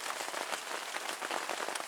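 Rain falling on a small tent on a wet day in England, a dense, steady patter of drops drumming close overhead without pause.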